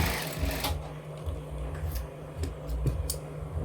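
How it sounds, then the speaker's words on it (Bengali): A mini sewing machine double-stitching palazzo trousers runs in short bursts of fast rhythmic needle clatter, close and fairly quiet, with a low motor hum beneath and brief clicks between runs. "এখানে একটা আর একটা সেলাই দিয়ে দেবেন ডাবল সেলাই দিলে"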